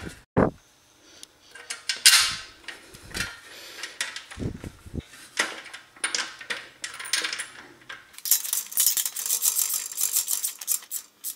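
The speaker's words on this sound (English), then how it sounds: "we will take our new kickstand, fold it up, and we'll stick it right under the bike" Motorized bike kickstand being folded and fitted under the bike frame, with a run of close metallic clicks, scrapes and knocks, some sharper clatters, and a steadier hissy scraping toward the end; no talking.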